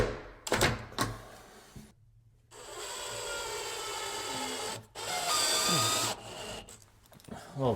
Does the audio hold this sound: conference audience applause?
no